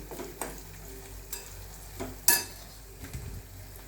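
Spices with red chili powder and garam masala sizzle steadily in a hot pan for a dal fry tempering while a spoon stirs them, with a few scraping clinks and one sharp metallic tap.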